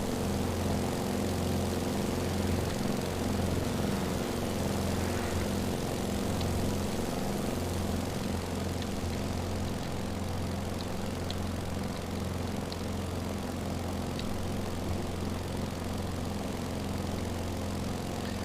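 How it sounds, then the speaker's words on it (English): A Beechcraft Staggerwing's radial propeller engine drones steadily in a flight simulator game, a constant loud, throbbing rumble with a pulsing low hum that runs unbroken throughout. "This is a Beechcraft Stagger Wing."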